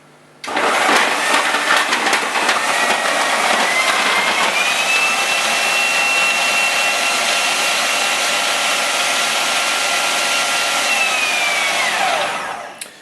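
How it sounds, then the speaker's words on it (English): Kenwood Multi Pro Classic food processor blending carrots: a loud, steady high-pitched motor whine that starts abruptly, holds with slight pitch drift for about twelve seconds, then winds down as it stops, with no talking. "those carrots were well and truly blended"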